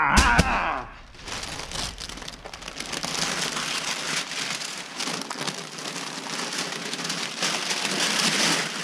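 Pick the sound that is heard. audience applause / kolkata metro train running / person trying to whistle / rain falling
rain falling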